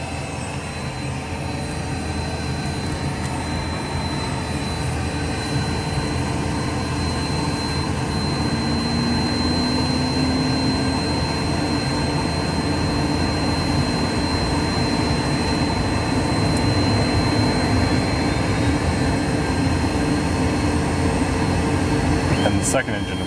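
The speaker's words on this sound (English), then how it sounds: "Second engine has started." Cessna Citation 560 jet engine spooling up during a cross-generator start, a steady loud turbine roar and whine from close by that holds for over twenty seconds, with a faint rising tone partway through.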